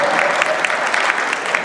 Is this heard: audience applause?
yes